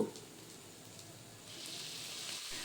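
Okra frying with spices in a pan, a faint sizzle that grows louder and hissier midway as more food hits the hot oil.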